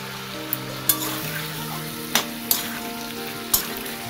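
Spice paste goes into a pan of fried chicken and meets a loud, steady sizzle, with a few sharp clicks of the spoon or pan as it is stirred. No voices are heard.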